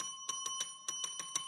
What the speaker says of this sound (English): I got to ring the bell